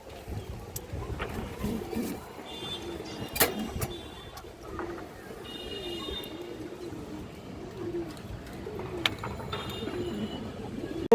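Silver female pigeons coo softly at a pigeon farm, low murmuring calls repeating through quiet background noise, with a few sharp clicks and knocks scattered among them.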